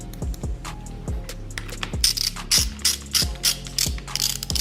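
Ratchet clicks on a Suzuki DRZ motorcycle as a small nut is threaded onto a new handlebar lever and snugged down, crisp repeated clicking bursts in a steady rhythm, close and clear with no talk.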